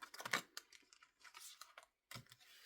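Quick bursts of papery riffling and snapping, a flurry of cards being shuffled close by, with short pauses between the bursts.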